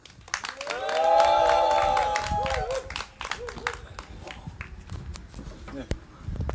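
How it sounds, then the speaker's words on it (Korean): A crowd at an outdoor candlelight protest rally in Seongju cheers and applauds, with a raised shout swelling early, then scattered clapping and crowd noise as the cheer fades. "우리 큰 박수 함성 부탁드리겠습니다."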